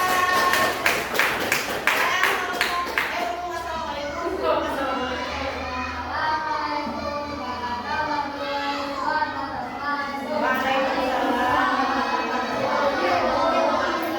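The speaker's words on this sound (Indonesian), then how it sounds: "Tepuk tangan buat kelompok 3." A classroom group of students applauds group 3: a burst of quick, close hand claps over the first few seconds, followed by steady children's chatter and talking that fills the rest of the room.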